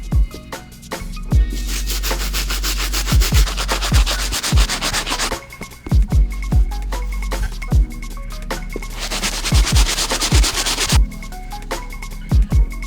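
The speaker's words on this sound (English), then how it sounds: "The stiff bristle we'll be using for the soles." A stiff bristle brush scrubs the soles of 2008 Air Jordan 3 CDP sneakers in close, loud, rhythmic strokes, with bursts of vigorous rubbing and occasional knocks. No one speaks.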